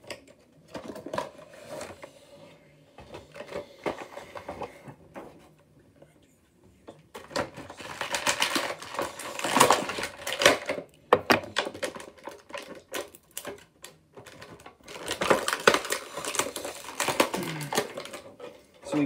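Toy World War 2 figure being pulled from its plastic packaging, with bursts of crinkling and rustling at close range, quieter handling at first, then louder stretches of crackling plastic and tapping.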